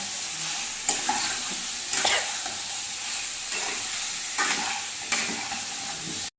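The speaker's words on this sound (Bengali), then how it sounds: "এর মধ্যে মাছটা দিয়ে একবারে কষিয়ে নেব ভালো করে" Stingray fish stir-fried with potatoes and spices in a pan, a constant loud sizzle broken by regular scraping stirs roughly every second, with no talking.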